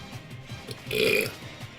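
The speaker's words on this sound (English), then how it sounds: "Next burp coming up." A single loud burp after drinking grape soda, lasting about a third of a second near the middle, with faint quiet sounds before and after.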